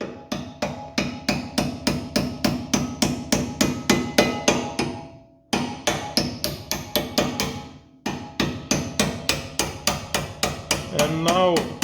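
Steady metal hammer blows driving a new brake pad pin into a Lada Niva brake caliper, a close, loud and even rhythm of about two strikes per second with two brief pauses.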